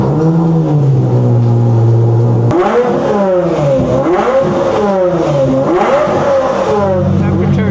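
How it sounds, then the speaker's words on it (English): A Mercedes SLS AMG road car with a new exhaust, cold starting: the engine catches with a sharp burst and then revs in repeated rising and falling sweeps, loud and close, settling toward a steadier idle near the end. "we're starting the car. This is cold start, 550, new exhaust"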